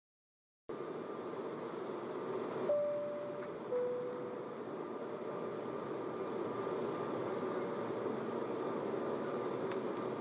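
A steady, even engine drone fills a cabin-like interior, with a couple of soft chime tones early on and no talking.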